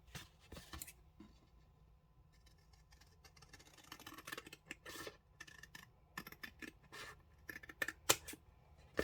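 Scissors snipping paper while making a small folio notebook craft, a string of crisp close cuts and paper rustles, quiet at first and busier toward the end, with no talk.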